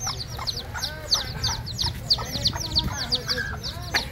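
Spotted hen with her newly hatched chicks: a rapid string of high peeping chirps over low soft clucking, close and continuous, with a few voices faintly in the background.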